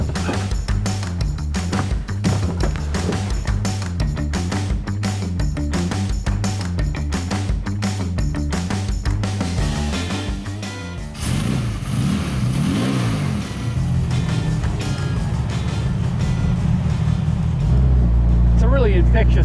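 A VW beach buggy engine starting and driving off, a loud continuous mid-pitched engine drone with pulsing revs that shifts as the buggy pulls away, no voices.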